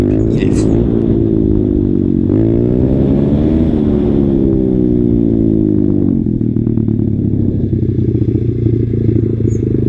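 Motorcycle engine on an enduro ride pulling wheelies, loud and close, its pitch climbing and dropping as the throttle is worked, with a continuous rumbling drone and some rattling over the full stretch.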